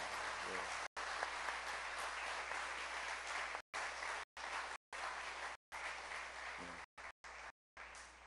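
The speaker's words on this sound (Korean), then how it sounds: "우리 큰 박수로 수고하셨습니다" A church congregation applauds its small-group leaders with loud, dense clapping that fills the space, broken by several short gaps.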